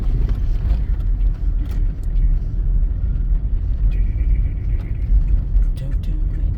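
A truck rumbles as it pulls into a Dodge dealership, a low continuous engine drone heard from inside the vehicle at steady loudness, with a brief whine and faint clicks over the rumble.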